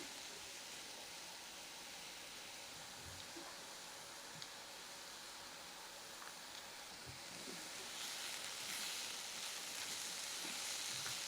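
Apple and almond halwa mixture lightly sautéing in a pan, a steady soft sizzle with scattered faint scrapes, growing slightly brighter and louder toward the end, no voices.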